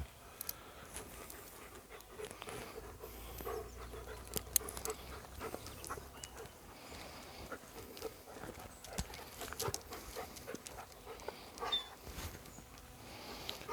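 A German shepherd found in a forest pants softly and moves about, with faint scattered clatter and rustling through a quiet, distant outdoor background.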